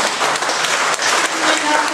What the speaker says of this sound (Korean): 그래서 박수 한번 부탁드리겠습니다.